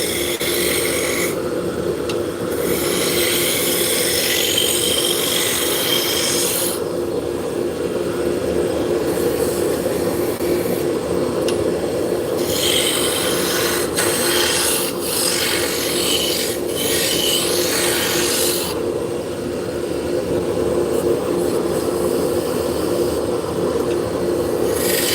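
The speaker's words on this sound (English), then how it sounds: "So we just switched from the roughing gouge to the spindle gouge." A spindle gouge cuts a spinning wood workpiece on a lathe, giving a steady, loud rasping scrape with a constant motor hum beneath, in bursts that fade and return as the tool is applied and lifted.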